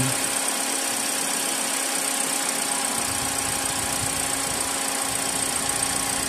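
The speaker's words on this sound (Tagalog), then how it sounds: "gumana na naman yung compressor ay sa pinakailalim." A refrigerator compressor mounted at the very bottom of the fridge runs with a constant, fairly loud mechanical hum and faint vibration, an unchanging drone with no talking.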